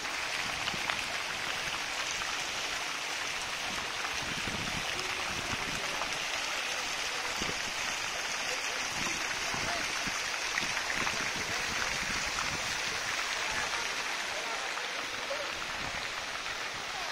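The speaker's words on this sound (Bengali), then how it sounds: "ফ্লোটিং ঝর্ণা" A floating fountain near a mosque in Bandar Seri Begawan, Brunei, sends out a steady, even hiss of splashing water, heard continuously from a moderate distance without talk.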